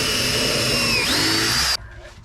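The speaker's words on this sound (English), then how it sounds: "I'm gonna drill a hole right here" Power drill boring a hole into the wall framing of a cargo trailer being fitted with a bathroom: one loud, steady high whine for almost two seconds, its pitch dipping then rising again as the bit bites, before stopping abruptly.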